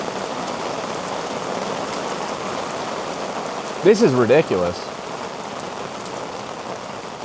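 Heavy rain falls outside as a steady broadband hiss throughout, with someone briefly speaking over it midway.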